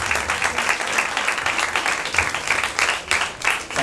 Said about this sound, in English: Please, again, a big applause for Sowgandhika,